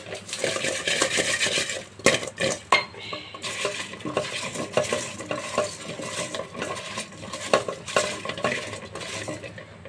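Pointed gourd being mixed by hand with salt, chili and turmeric, giving steady scraping and clinking against metal cookware, busy and close with brief louder knocks and no voices.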